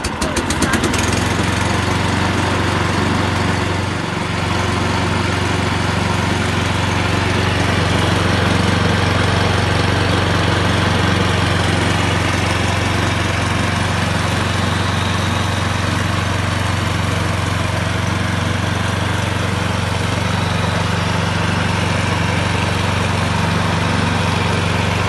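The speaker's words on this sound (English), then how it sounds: "This is a scarifier which is used to take the moss out of the grass." A STIHL RL540 scarifier runs steadily while raking moss out of a lawn, its engine a constant loud droning hum with a rattling, vibrating texture and no pauses.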